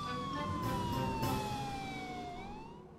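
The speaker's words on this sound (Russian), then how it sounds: "Врубай мигалки и быстрее долетим" Police car siren in Garry's Mod, a loud continuous wail sweeping slowly down in pitch and then rising again, steady throughout with game background noise underneath.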